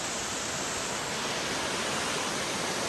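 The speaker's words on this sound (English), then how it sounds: "But this is Amicalola Falls." Amicalola Falls roars with a loud, continuous broadband rush of falling water, steady and unbroken from start to finish with no other sounds.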